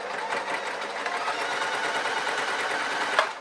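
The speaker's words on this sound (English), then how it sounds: "I'm going to sew to this last pin." Sewing machine stitching a shoulder band onto an elastic formal top, a close, steady whirring run of rapid needle strokes with no pauses and no talking.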